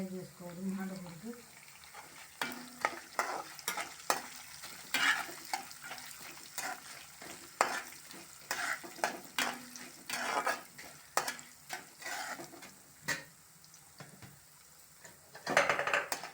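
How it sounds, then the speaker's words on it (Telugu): Stuffed bitter gourd frying on a low flame, with soft sizzling under repeated stirring and scraping clinks of a utensil against the pan, steady and close with a few louder knocks. "సిమ్లో పెట్టుకుని ఫ్రై చేసుకోవాలి"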